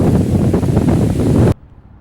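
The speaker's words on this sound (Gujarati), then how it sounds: "પવન કેટલો અવાજ સાંભળો" Strong wind roars and buffets the microphone under a neem tree on a farm in a loud, rumbling rush for about a second and a half, then cuts off abruptly into near quiet.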